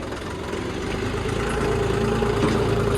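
A heavy 4x4 tractor engine idles steadily and close by, a constant low, throbbing rumble with no voices.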